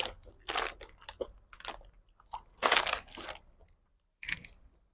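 Crunchy Nigerian snack chewed close up, a series of loud, dry crunching bites in irregular bursts separated by short quiet gaps, with one sharp final crunch.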